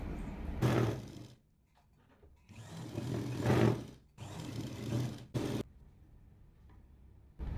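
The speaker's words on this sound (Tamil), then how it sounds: "இப்போ லைனிங் கிளாத்தையும் மெயின் கிளாத்தையும் ஒன்றா சேர்த்து நம்ம தைச்சாச்சு" A sewing machine stitches the lining and main fabric of a kurti together in several bursts of whirring, each lasting about one to two seconds, separated by short pauses, close and fairly loud with no talk.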